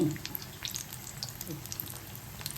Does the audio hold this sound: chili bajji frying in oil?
yes